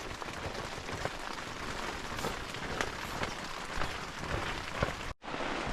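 Steady rain falls at dawn beside the Mekong River, a dense, even hiss of drops with scattered louder splashes, continuous and close, briefly cutting out near the end before resuming.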